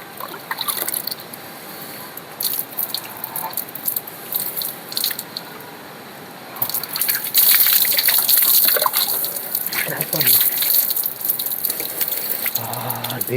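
Cold water is poured over someone bathing in winter, in loud repeated splashing gushes that start intermittently, then become a heavier, continuous pour up close.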